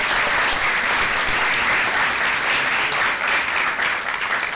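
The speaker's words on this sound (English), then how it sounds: "Give them another round of applause." Sustained, loud audience applause at a school district governing board meeting, dense steady clapping from a crowd filling the room for several seconds without talk.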